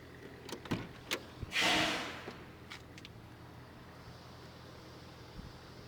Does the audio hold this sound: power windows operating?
yes